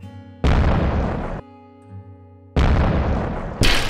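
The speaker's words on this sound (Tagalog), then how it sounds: "Sumabog ang simbahan dahil dito" Anime church explosion caused by fire magic: two huge, loud booming blasts a couple of seconds apart, each a sustained roar over a low rumbling background, the second followed by another sharp burst.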